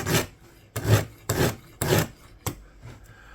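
An ESEE 4 knife blade is sanded with oiled 3000 grit sandpaper in close, rhythmic strokes, four to five raspy rubbing passes each lasting about half a second, with no voices.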